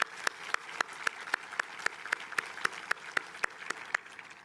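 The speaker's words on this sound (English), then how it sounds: "Let's give them a round of applause." A graduation audience gives a sparse, fairly distant round of applause, with a handful of sharp claps standing out at a steady rhythm over a soft wash of clapping.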